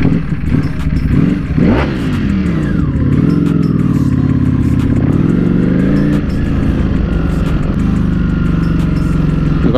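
A Ducati V4S superbike pulls away close and loud, its engine revving hard with rising and falling pitch sweeps and gear changes, then settles into a steady, strong roar as it rides off; no one speaks.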